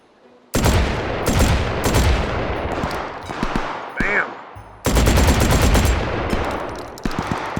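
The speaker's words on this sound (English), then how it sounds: "This is the Scalpel LE, a drum-fed open bolt automatic shotgun." A Scalpel LE drum-fed, open-bolt automatic shotgun fires in the H3VR game, several loud, rapid full-auto bursts of booming blasts with brief pauses and a mechanical clack between strings.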